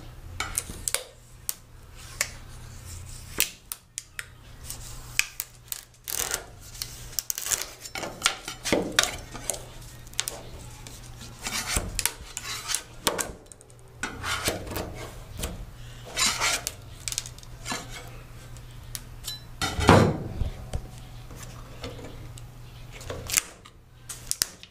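Old paint being picked and peeled off a rusty car panel, a faint scratching and crackling of flakes in irregular bursts, close and quiet.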